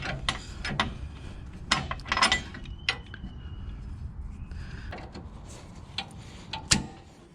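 A nut tightened onto a threaded rod while fitting a Roadmaster active suspension to a Duramax truck gives scattered metallic ratchet clicks and clanks, close and irregular, with quiet pauses between bursts.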